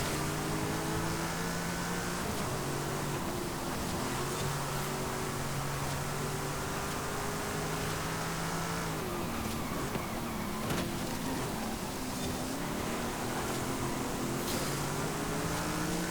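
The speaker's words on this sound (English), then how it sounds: "Love the sound of this V8." A V8 race car engine in Forza Horizon 5 drones continuously at high revs, its pitch rising and dipping through gear changes, loud and close throughout.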